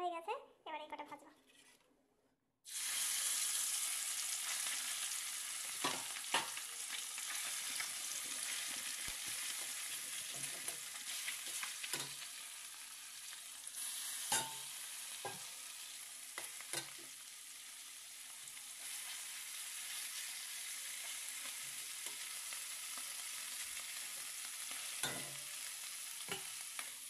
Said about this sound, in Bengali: এই যে পুঁটি মাছগুলো দিয়ে দিয়েছি ভাজতে।